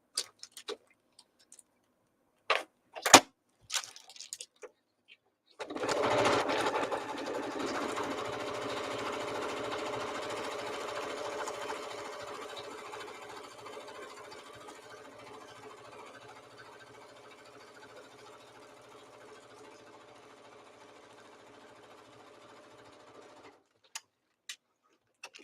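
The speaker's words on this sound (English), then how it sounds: "Now, I want to sew this shut." A sewing machine runs steadily for about eighteen seconds, sewing a fabric piece shut. Its motor hum holds loud and close, then slowly fades, with a few sharp clicks and knocks before and after.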